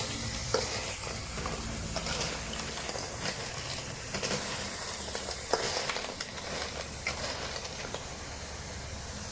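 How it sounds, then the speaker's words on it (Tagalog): Female crab is stirred in a cooking pan, a steady sizzling hiss with scraping and clattering of a utensil against the pan and shells, moderately loud and continuous with no talk. "So, hahaluin natin mabuti."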